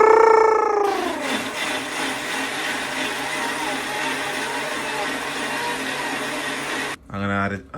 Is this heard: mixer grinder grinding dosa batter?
yes